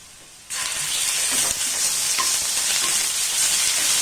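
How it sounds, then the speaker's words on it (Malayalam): Ginger garlic paste hits hot oil with fried onions, bursting into a loud, continuous sizzle close up, with faint scraping of stirring beneath. "ഇനി ഇതിലേക്ക് നമുക്ക് ജിഞ്ചർ ഗാർലിക് പേസ്റ്റ് ചേർത്ത് കൊടുക്കാം"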